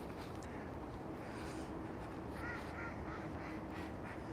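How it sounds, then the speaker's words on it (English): A duck quacks somewhere off at a distance outdoors, faint repeated calls sitting over a steady broadband background hum. "You hear that duck quacking over there."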